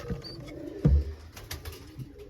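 Tumbler pigeons in a breeding loft with young chicks give a soft, close coo and a few faint murmurs in an otherwise quiet space.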